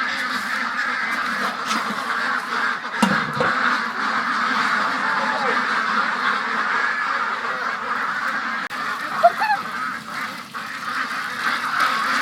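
A large flock of ducks in Vietnam quacks continuously as a dense, steady chorus, with voices mixed in among the calls.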